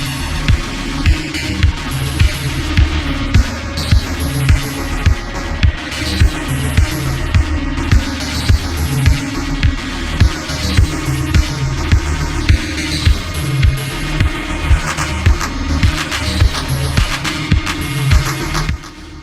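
A loud, driving four-on-the-floor house track plays, with a steady thumping kick, bright crisp hats and a dense mix running continuously throughout.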